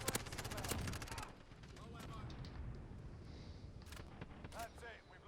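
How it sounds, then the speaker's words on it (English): Rapid video game gunfire rattles in dense bursts at the start, then thins to scattered shots and distant booms from an enemy precision airstrike, with talking voices running underneath. "Enemy precision airstrike inbound."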